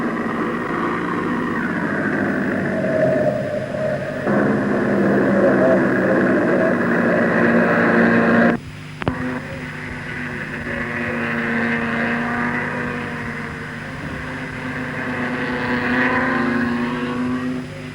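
Pre-war vintage racing cars, including the Cognac Special, contest a 1973 VSCC club circuit race. Engines roar loudly and continuously, briefly cutting out near the middle before the sustained racing drone resumes.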